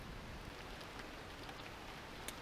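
Faint, steady hiss and patter of light rain falling at a riverside campsite in British Columbia, soft and continuous with no voices.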